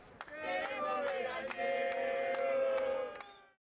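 Mourning Argentine football fans mass together, a loud crowd roar of sustained shouting and chanting voices with bursts of applause, steady and dense throughout before dropping off at the end.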